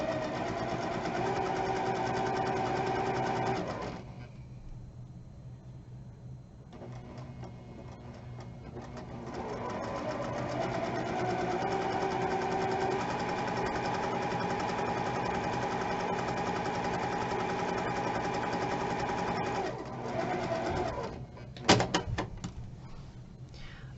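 A sewing machine runs in long steady bursts while stitching down either side of a fabric bag strap, with short pauses between runs and a few handling clatters near the end.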